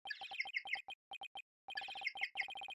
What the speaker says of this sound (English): That's my ringtone.